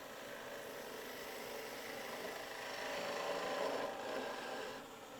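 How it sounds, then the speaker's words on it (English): A spindle gouge cuts a wooden Christmas ornament spinning on a lathe, giving a steady, continuous scraping rasp that swells a little louder in the middle before easing off, with no talk over it. "Going to use a spindle gouge now because it has a steeper angle and the wings aren't in my way."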